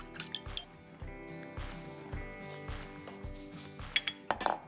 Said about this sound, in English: I'm whisking it really vigorously